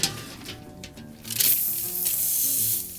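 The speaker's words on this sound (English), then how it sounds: "let's go ahead and get these burgers onto the grill" Burgers hit a grill grate preheated for five minutes, a bright hiss surging up and holding steady, close and loud, with faint scraping before it and no talking.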